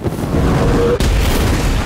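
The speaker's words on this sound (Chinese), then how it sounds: "在爆炸的掩护下，塔利与大卫成功逃脱了敌人的追捕。" A gasoline-soaked wooden cabin blows up in an action movie, a loud, sustained roaring rumble with a sharp burst about midway.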